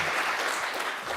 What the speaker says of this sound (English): I would also like to have a round of applause for the kind engineer who's been pressing all the buttons upstairs.